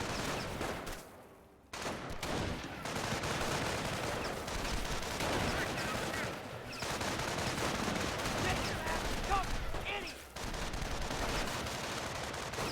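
Rifle squads fire from building windows in Company of Heroes, a WWII strategy game: a continuous crackle of rifle and machine-gun fire with scattered louder shots, fairly faint overall, while a commentator talks over the battle.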